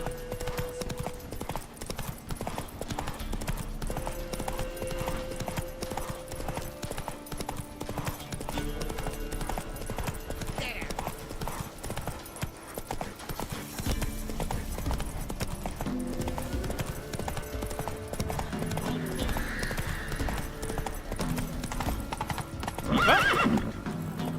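Roach the horse galloping in The Witcher 3, rhythmic hoof clip-clops running continuously with occasional neighs and whinnies over game music and ambience, with a brief louder burst near the end.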